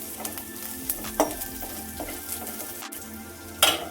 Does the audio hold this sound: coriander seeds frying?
yes